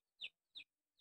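Chickens on a home terrace give three short, sharp clucks in quick succession, close by and clear against silence.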